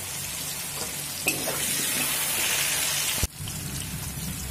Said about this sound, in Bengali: আলুটা আমি মিডিয়াম ফ্লেম করে 1 থেকে 2 মিনিট মতো ভেজে নেব